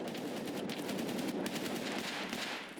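Rapid bursts of automatic gunfire from AI bots in the SPT Escape from Tarkov mod, dense overlapping shots and suppressing fire continuing loudly for about three seconds with no talking.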